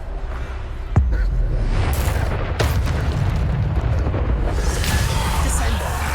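Bombarda and Descendo spell blasts in Hogwarts Legacy, sharp booming bursts over a constant rumble of combat noise, with a voice heard among the impacts.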